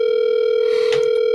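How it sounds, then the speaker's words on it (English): A steady telephone dial tone hums alone, continuous and unbroken, as a call is being placed. "Okay, so see if we get Andrew on the line here"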